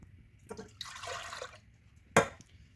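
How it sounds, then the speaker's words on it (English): Two cups of ice-cold milk go into a bowl for a sugar-free chocolate pudding pie. A soft splash leads into a short pouring burst, then a sharp splashing clink follows, each close and fairly quiet. "Pour an ice cold 2 cups of your favorite milk."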